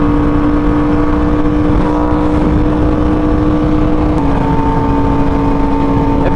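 A 2018 Yamaha R1M sport motorcycle riding at steady speed at night, its engine droning loud and constant throughout with a steady tone and a slight pitch shift.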